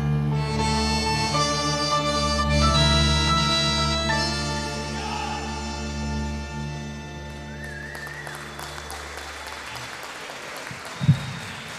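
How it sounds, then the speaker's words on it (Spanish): An orchestra's music at a milonga night at Club Social Fisherton in Rosario gives way to a burst of loud, sustained crowd applause that fills the last few seconds. "Fuertísimo ese aplauso."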